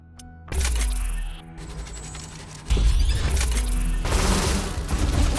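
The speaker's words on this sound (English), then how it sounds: "Okay, so it shoots explosive wasps." The wasp launcher in The Riftbreaker fires explosive wasps during swamp gameplay: dense volleys of crackling blasts and booms, loud and continuous, with a sharp rise in intensity near the middle and a steady barrage to the end.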